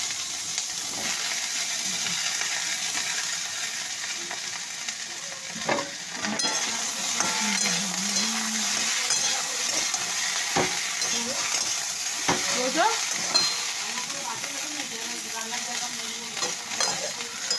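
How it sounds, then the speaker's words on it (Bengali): Chorchori vegetables stir-frying in hot oil seasoned with five-spice and dried and green chillies, a steady close sizzle with repeated scraping and stirring of a spatula in the pan, plus occasional clinks of utensils. "দেখো, চচ্চড়িটা রান্নাটা করে গল্প করি। তেল 5 ফোড়ন দিয়ে দিয়েছি,"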